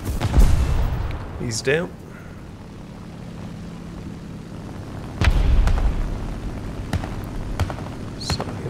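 A bomb goes off in War Thunder's ground battles: heavy booming blasts near the start and again midway, with aircraft engine drone and scattered gunfire around them and a player speaking briefly.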